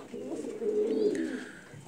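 A pigeon coos close by, a single soft throaty rolling call lasting under two seconds against a quiet background.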